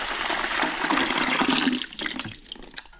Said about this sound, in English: then we'll fill this reservoir with water